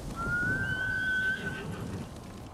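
A horse in the video game Ghost of Tsushima gives a long, high whinny that rises and fades over about a second, heard over a low rumbling game ambience.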